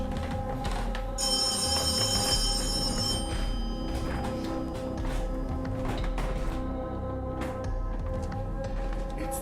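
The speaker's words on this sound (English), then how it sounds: "That's not my ringtone. I don't think that's your ringtone either." A telephone, apparently unplugged, rings with an unfamiliar ringtone in a steady, continuous ring that goes on the whole time over a dull background hum.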